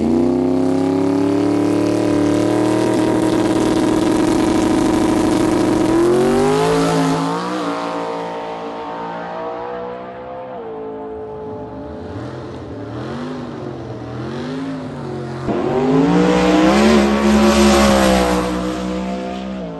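A Ford Mustang drag car with a stock ECU and 6R80 transmission launches at a racetrack, its engine roaring loudly and rising in pitch through several gear changes, then fading briefly before swelling again, with no talk.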